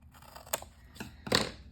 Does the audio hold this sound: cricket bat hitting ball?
no